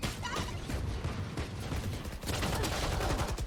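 Gunfire in the video game Valorant, with rapid, dense shots and clattering bursts loud and close throughout a competitive match round.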